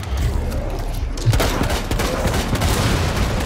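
Dense automatic and rapid gunfire from a Rainbow Six Siege Outbreak match, a continuous loud stream of shots and bursts with heavy low-end impacts and no pause across the whole stretch.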